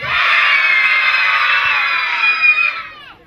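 At a Midsummer Eve party on a beach, a crowd shouts together in one loud, sustained cheer lasting about three seconds before fading out.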